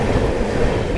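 Netaji Express, the Kalka to Howrah passenger train, rumbles past on the adjacent line, a steady close, loud roar of wheels and carriages with no break.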